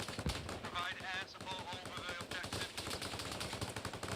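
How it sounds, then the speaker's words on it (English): Dense, continuous machine-gun fire from two guns in the Arma Reforger military shooter game, rapid overlapping bursts with a voice speaking over the shooting. "Both machine guns absolutely at it,"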